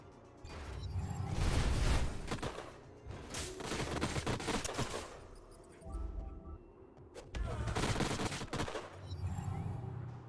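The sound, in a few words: turret gunfire in video game Age of Wonders Planetfall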